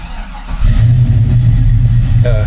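A fuel-injected LS engine in a 1967 Chevrolet C10 pickup fires up and settles into a steady, loud low rumble, with a brief higher whine near the end.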